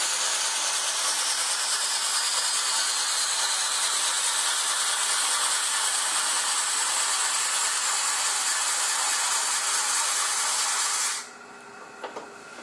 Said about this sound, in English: Cherry branch is ready to go. And I'm just going to crank the Fosner bit into it.